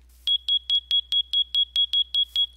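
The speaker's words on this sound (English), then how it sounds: "the fire alarm will keep beeping until you right click it to turn it off" A smoke-style fire alarm in a Minecraft furniture mod beeps twelve times in a quick, steady rhythm, each electronic tone short, loud and close, with no voices present.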